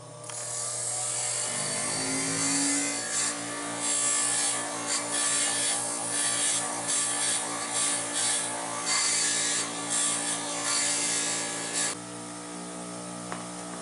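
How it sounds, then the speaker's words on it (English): A grinder works a thin kitchen knife blade in a workshop, a sustained loud whirring grind with shifting pitch that eases near the end. "The grinding I'm going to do on this little thin blade is going to generate a tremendous amount of heat on this blade."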